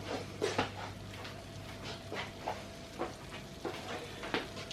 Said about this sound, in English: I'm just going to cook that garlic out a little bit.